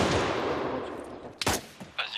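Video game gunfire: a sharp, loud shot burst after a fading roar, followed by a couple of quieter pops, with speech mixed in.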